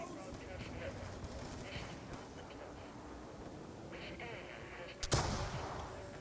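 A single loud gunshot rings out near the end in Call of Duty: Black Ops II, after a stretch of low ambient battle rumble and faint distant noise with a voice speaking underneath.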